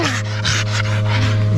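An excited Finnish Lapland reindeer herding dog pants rapidly and steadily up close, quick rhythmic breaths over a low constant hum from a vehicle or engine.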